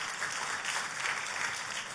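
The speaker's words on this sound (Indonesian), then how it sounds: "Kita kasih tepuk tangan." A church congregation gives steady, even applause at a moderate level during a pastor's sermon. The clapping is dense and continuous with no voices on top.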